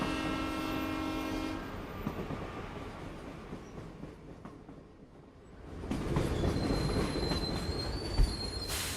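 Train in the video game Professor Layton and Pandora's Box rumbling along with squealing wheels and clattering track noise, the sound easing off mid-way, then swelling again close and loud with a high whistling tone.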